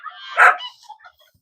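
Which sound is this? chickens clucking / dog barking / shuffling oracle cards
dog barking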